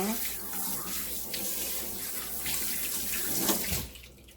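Cleaned squid rinsed under a running kitchen tap, with a steady broadband rush of water splashing into the sink for about four seconds before it tapers off near the end.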